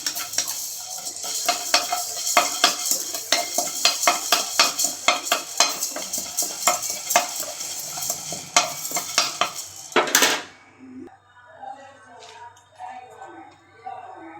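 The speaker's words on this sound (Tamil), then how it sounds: "இப்போ நல்லா வறுத்துக்கலாம்." Spices are stirred and scraped in a hot dry pan for a village-style country chicken curry, with quick rhythmic clinks of a metal spoon against the pan, then an abrupt stop followed by quieter faint shuffling.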